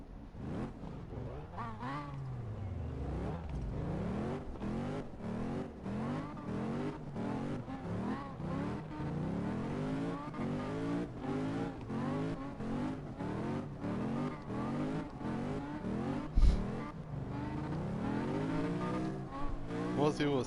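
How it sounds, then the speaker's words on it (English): A drift car with a supercharged Roush engine in a Fox body, in the CarX Drift Racing video game, revs and sweeps up and down continuously with tire squeal, loud and steady, with occasional talk underneath. "most people will say I have an LS inside this Fox body, but little did they know that was supercharged Roush engine"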